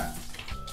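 Water runs and splashes over a toy dog figure in a toy bath, a steady close wash of rushing water with no voices.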